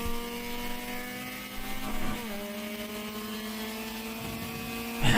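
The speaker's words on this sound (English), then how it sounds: "Man, that car is loud." A race car at the Watkins Glen endurance race drones with a steady engine tone that dips in pitch as it passes, then rises again near the end, heard from a distance.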